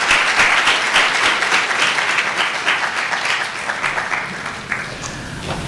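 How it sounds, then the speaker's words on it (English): An audience gives a steady, loud round of applause for debaters at a debate event, the clapping dense and sustained before slowly thinning toward the end. "please give a round of applause for our debaters who are brave enough to come over here and debate this topic"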